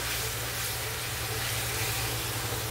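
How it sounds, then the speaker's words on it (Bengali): Masala with cumin powder frying in a pan while being cooked down for a coconut jackfruit curry, a steady close sizzle with soft hissing throughout and no voices. "আর দেবো জিরের গুঁড়ি আধা চামচ দিয়ে মশলাটা এখন ভালোভাবে কষাবো"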